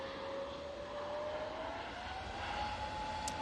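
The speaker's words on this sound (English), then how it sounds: "Got another Virgin A380 coming out on the taxi by the looks of it." A Virgin Airbus A380 taxiing at Manchester Airport produces a steady, moderately distant jet engine drone with a faint rising whine over broadband rumble, continuous and without talk.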